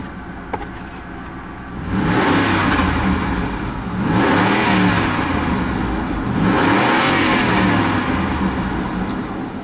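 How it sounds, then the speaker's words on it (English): A 2004 Lincoln Aviator SUV engine idles, then revs up three times in a row, each rise swelling into a loud roar before settling back down. "Rev the engine a couple times here for you"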